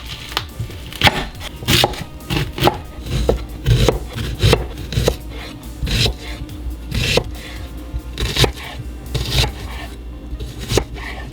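An onion is chopped with a knife on a cutting board to prep grilled onions for a vegan smash burger. The knife strikes the board in close, steady, rhythmic thuds with no voice over them.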